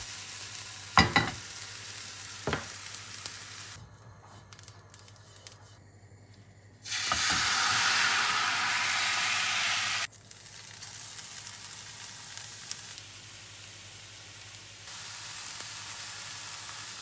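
Thin pancake batter fries in a hot greased pan, a bright steady sizzle rising suddenly for a few seconds and then settling to a softer hiss, with a few clicks and knocks before it.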